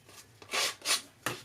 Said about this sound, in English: I'm just going to give this a quick hit with my sanding tool.